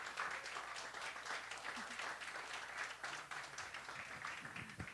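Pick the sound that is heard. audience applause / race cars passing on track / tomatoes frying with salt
audience applause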